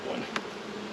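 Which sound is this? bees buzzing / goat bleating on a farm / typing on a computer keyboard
bees buzzing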